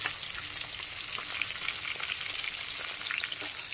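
Chopped onion and garlic fry in hot oil as a tempering for dal, giving a steady, dense sizzling hiss with faint crackles throughout.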